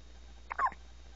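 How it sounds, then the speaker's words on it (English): A baby girl's hiccup, a single soft close burst of two quick catches, alone in a quiet room. "Even though I have the hiccups."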